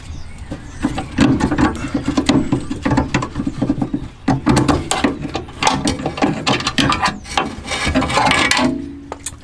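A pry bar works a rear sway bar link loose on a VW Golf GTI, giving loud, close metallic clanks, scrapes and ratcheting knocks in irregular bursts, with no voices.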